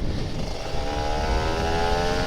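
A Kawasaki Ninja RR 150 two-stroke motorcycle accelerates steadily on an open-air touring ride, its engine note rising and staying loud and close throughout, with a constant rush of wind and no talking.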